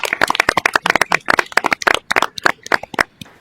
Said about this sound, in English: So let's give her a big round of applause as well.